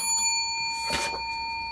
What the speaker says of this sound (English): Hardly worth ringing the bell, but there it is.